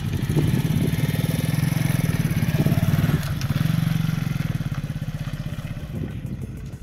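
An Alpha Mustang Dingo 125 moped with a tuned clutch pulls off in first gear, its mid-pitched engine running steadily and close, with a light rev rise and mechanical clatter.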